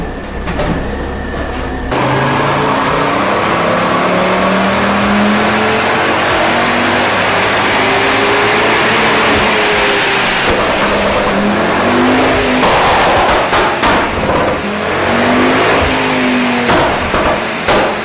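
A Ford Focus ST MK2 engine revving repeatedly, with rising and falling engine tones, a loud roaring exhaust and sharp popping bangs on the overrun, close up.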